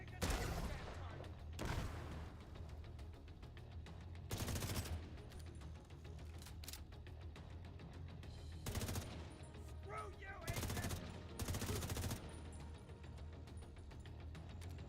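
Video game gunfire in a farming session, repeated bursts of automatic fire clustered in several loud volleys across the clip over a constant low background rumble.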